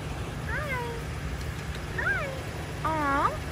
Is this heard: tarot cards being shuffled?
no